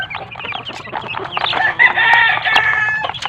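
Mother hen clucking loudly and close among her chicks, with a burst of busy fowl calls and high chirping mixed in, continuous over a few seconds.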